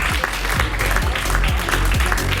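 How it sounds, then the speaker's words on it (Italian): Audience at a regional beauty pageant final in Veneto claps steadily and loudly throughout, a dense continuous applause with no pause. "Nel frattempo loro un altro applauso"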